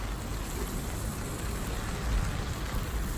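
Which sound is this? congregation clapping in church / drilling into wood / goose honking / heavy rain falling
heavy rain falling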